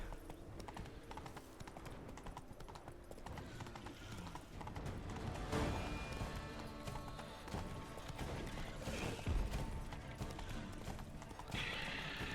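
Geralt's horse Roach galloping in The Witcher 3, a steady rapid clip-clop of hooves with a neigh, continuous and close over game ambience, with no talking.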